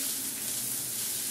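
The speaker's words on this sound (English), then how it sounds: "Just add the onions and the garlic and start frying those off." Onions and garlic frying gently in warmed olive oil, a soft steady sizzle with a faint hiss, fairly quiet and alone.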